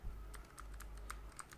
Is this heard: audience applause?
no